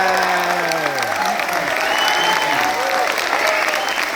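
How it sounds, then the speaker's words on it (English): Sustained applause from an audience at the close of a question-and-answer session with actor Robert Patrick, dense and steady throughout, with a few voices and sliding tones mixed into the clapping. "So bring you a big round of applause for that."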